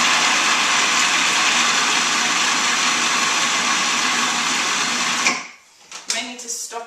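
Food processor blending a chunky mix of sprouted aduki beans and ginger for burgers, a steady loud whirring motor that runs continuously for about five seconds, then stops abruptly, leaving a few faint clicks and scrapes.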